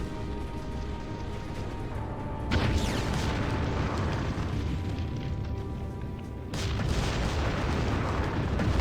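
Bombardment explosions in the Ground Control strategy game: a continuous, heavy rumbling barrage with two sharp surges of fresh blasts partway through, loud and dense throughout with no talk.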